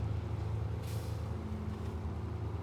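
A heavy off-road truck in SnowRunner rumbles with a deep, steady engine drone, a brief hiss of air cutting through near the start, continuous and close.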